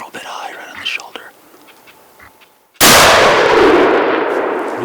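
A single loud hunting-rifle shot cracks out after a stretch of quiet whispering, its blast decaying in a long rolling echo outdoors in cold weather.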